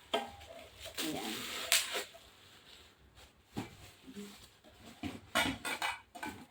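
Casserole pots and their lids being picked up and set down, a series of irregular metallic clanks and scrapes, some close and sharp, others softer, with quiet pauses between.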